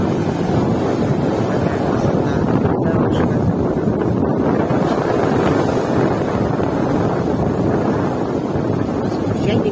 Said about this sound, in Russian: Ветер 7 метров в секунду.